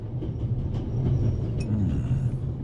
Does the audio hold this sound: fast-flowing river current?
no